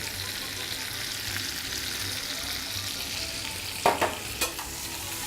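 Roughly diced carrots and celery sizzle steadily in a pan during a coq au vin preparation, with a few sharp scraping clicks from stirring near the end.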